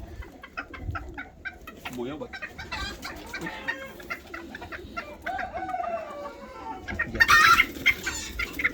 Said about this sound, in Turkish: Bunlardan arkadaşlar iki tane horozumuz fazla bilginiz olsun.